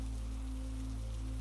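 Steady rain patters on a concrete floor at midnight, a continuous even hiss of drops with a low constant hum beneath and no voices.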